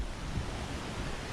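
Ocean surf washes steadily below waterfall pools on a black sand coast, a soft, distant, continuous roar mixed with light wind noise, and no voices.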